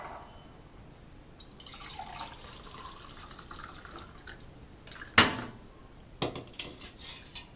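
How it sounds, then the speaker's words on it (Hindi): Sattu lassi poured into a glass, then ice added: a soft trickling pour followed by a sharp clink and a few rattling knocks of ice against glass. "अब इसे हम ग्लास में निकालेंगे और उसमें बर्फ डालेंगे।"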